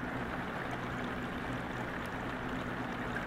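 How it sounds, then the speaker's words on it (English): Heavy rainwater pouring down through holes from a leak, a dense, steady rushing splash that stays constant throughout, close and loud. "It's coming right down there, pouring."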